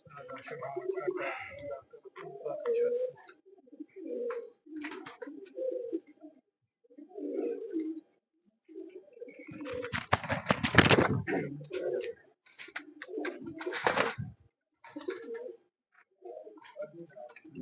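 Racing pigeons at a pigeon-flying contest in Punjab coo in soft, low rounded calls amid overlapping talk, with a louder burst of bird activity and wing-like flutter partway through.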